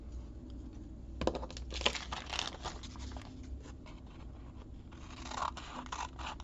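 Scissors cut paper for a window envelope, a few quiet crisp snips and rustling paper handling up close in a still room.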